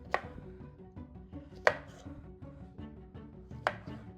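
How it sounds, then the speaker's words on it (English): A knife cuts through oranges on a cutting board for juice, three sharp, separate chops spaced about two seconds apart, with soft background hum between and no talk. "So I'll continue chopping up these oranges"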